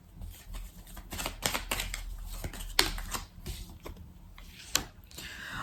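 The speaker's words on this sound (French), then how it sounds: "Alors, on va recouvrir certaines cartes." Tarot cards being handled and laid out on a surface: a quiet run of soft taps, flicks and slaps with a couple of sharper snaps, close up with faint background murmur.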